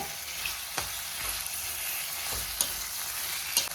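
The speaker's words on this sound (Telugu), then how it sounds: "నేను నూనెలోనే మగ్గ పెట్టుకుంటున్నాను" Chicken pieces fry in hot oil in a pan while being stirred, giving a steady sizzle broken by several sharp scraping strokes of the spoon, close and fairly loud.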